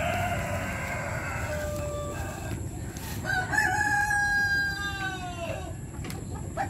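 Rhode Island chickens being moved to new quarters cluck at close range while a rooster crows twice in long rising-and-falling calls, with steady farmyard background noise throughout.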